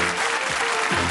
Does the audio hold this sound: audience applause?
yes